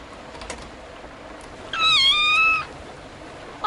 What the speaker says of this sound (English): Oh, look, it's a kitten. Oh, it's wet. Poor little thing.